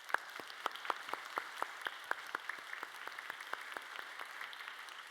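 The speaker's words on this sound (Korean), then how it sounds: "우리 박수로 환영하겠습니다." A church congregation at a Sunday worship service claps to welcome new members, with faint, distant claps falling in an even, regular rhythm of roughly four per second and no talking.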